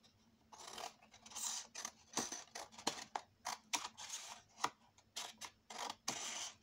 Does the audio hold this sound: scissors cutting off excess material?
yes